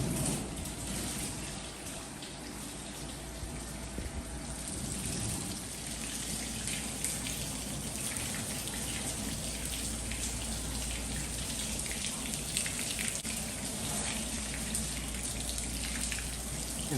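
Water runs continuously over a double-coated Rough Collie during a bath, a steady close hiss of spraying and splashing water that stays even and unbroken throughout.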